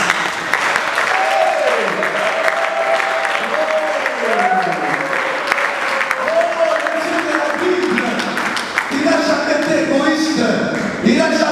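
Applause and cheering from a church congregation acclaiming the Lord fill the space continuously, with voices rising in sustained shouts and song-like calls over the steady clapping.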